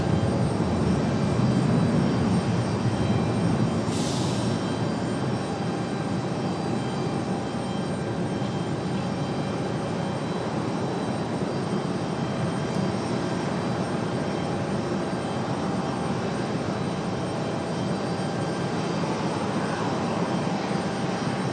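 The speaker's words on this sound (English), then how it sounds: "Aer Lingus on the way out." An Aer Lingus jet airliner departs Raleigh-Durham airport with a sustained, even engine roar heard steadily from start to finish. A brief high chirp sounds near the start, and no one speaks.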